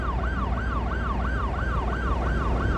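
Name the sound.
ambulance sirens in a city-building video game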